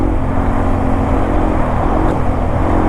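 Yamaha motorcycle on a forest trail downshifting and coming back on the throttle, a steady loud engine drone with broadband roar throughout, no clear rev peaks.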